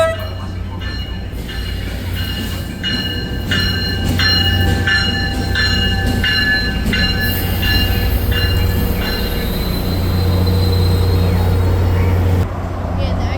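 Tri-Rail P637 commuter train pulled by a BL36 locomotive departs Fort Lauderdale station in the early evening, a steady loud diesel drone with rhythmic clanking and squealing from the wheels and rail cars as it moves off.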